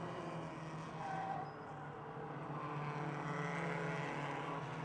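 Race cars roar around the Motordrome Speedway oval in a steady, blended engine drone, several cars running close together at a distance with a continuous rumble and no voices.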